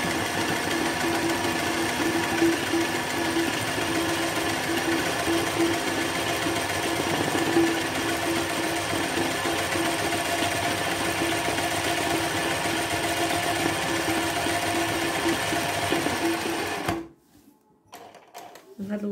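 A sewing machine doing embroidery on a hoop frame runs continuously with a dense, even mechanical hum and needle clatter, close and loud, then cuts off near the end, followed by quiet handling; a voice speaks over it.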